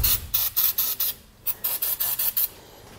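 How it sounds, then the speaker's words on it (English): Penetrating oil sprayed onto bolts of a trailer axle during a Dexter axle and electric brake installation, a rapid run of about a dozen short, loud hissing spray bursts in a steady rhythm with brief gaps. "I'm also going to grab some penetrating oil and just hit these bolts here to help break them loose"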